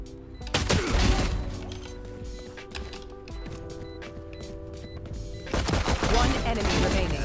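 Ghost pistol shots in Valorant ring out in quick sharp cracks over game music, with a denser burst of gunfire near the end; no one speaks.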